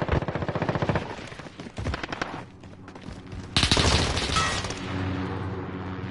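Loud automatic gunfire in Call of Duty: Modern Warfare rattles in fast bursts, pauses briefly, then erupts again with heavier, booming shots near the end.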